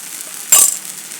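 Oil is drizzled around the edge of a poha thalipith cooking on a pan, giving a sudden loud hissing sizzle that fades into a quiet simmer.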